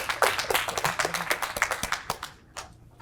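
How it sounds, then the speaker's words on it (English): Scattered clapping from a small audience welcoming a speaker to the stage, individual sharp claps in an uneven rhythm, close and moderately loud, tapering off and briefly dropping out before a last clap. "I'd ask you to invite him to the stage with some applause right now"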